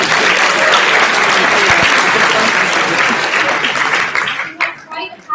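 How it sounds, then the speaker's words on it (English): A conference crowd at a closing session gives itself a round of applause, loud sustained clapping from many hands that thins and dies away near the end. "So give yourself a round of applause."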